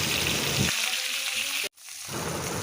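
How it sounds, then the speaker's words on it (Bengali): Hilsa fish heads fry in hot oil in a wok, browning for a Bengali ghonto with pumpkin and Malabar spinach. A loud, steady sizzle fills the clip, then cuts out briefly before hissing back. "মাছের মাথাগুলোকে বেশ ভালো করে লাল করে ভেজে নিচ্ছি"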